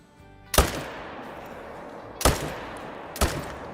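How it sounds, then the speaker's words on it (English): Three rifle shots fired at a mule deer in a hunting video game, sharp cracks spaced unevenly over a few seconds, each trailing off in a short echo over a quiet background. "Terrible shooting. But he's going down."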